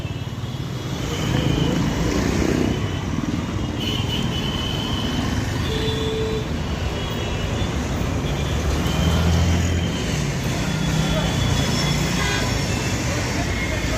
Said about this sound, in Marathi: संपूर्ण ट्रॅफिक जाम केलेली आहे 2 क्रेननी